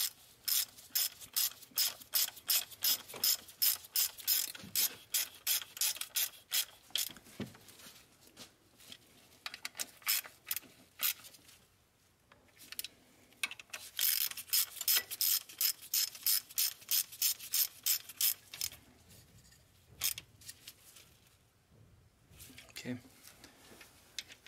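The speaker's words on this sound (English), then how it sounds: "So now I'm gonna snug these bolts over here." A ratchet snugs the timing cover bolts on a Range Rover 5.0L engine, giving close, loud bursts of rapid clicking strokes, repeated in runs with brief pauses between them.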